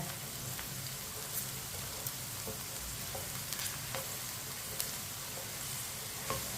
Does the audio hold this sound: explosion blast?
no